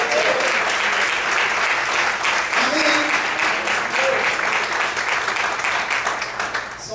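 A church congregation applauds at a worship service, a dense, continuous wash of clapping from many hands that holds steady for several seconds, with faint voices underneath.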